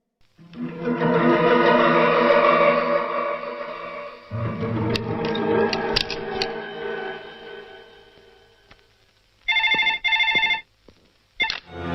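A telephone rings in a film scene, with loud repeated electronic ring bursts near the end following a stretch of dramatic music and rumbling sound.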